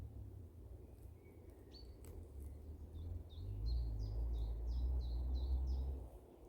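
Small birds in a spring forest near Dnipro give a run of short, high chirps, repeating in a quick series over a low steady rumble of background noise.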